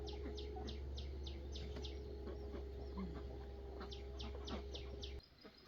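Hungry farm ducks call repeatedly in rhythmic bursts of quacking over a steady low hum, fairly close, with no talk, the calls stopping just before the end.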